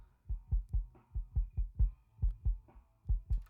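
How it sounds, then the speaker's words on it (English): A sub kick drum, isolated beneath a punchy vintage-style kick, thumps out a steady run of deep, booming low hits, about a dozen evenly spaced throbs with faint background noise between them. "There's also a sub kick underneath it,"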